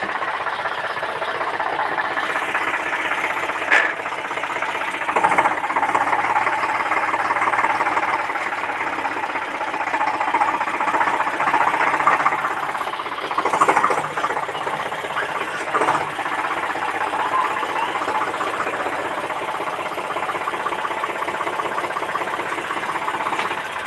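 A tractor engine runs steadily up close on a farm, a continuous mechanical chugging drone with brief louder knocks and rattles scattered through, no voices.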